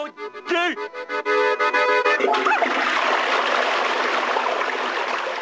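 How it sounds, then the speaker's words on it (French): A household toilet flushes: a brief rising gurgle, then a loud rushing surge of water swirling and draining steadily, close by and heard on its own. "Et 10 litres pour la chasse d'eau."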